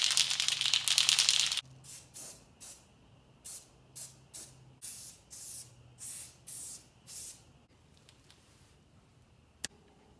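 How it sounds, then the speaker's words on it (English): Spray paint hisses onto the sides of a racing mower, first in one long close burst and then in about eight short, evenly spaced puffs, with faint can rattles and a sharp tap near the end. "I'm gonna paint the sides of the mower."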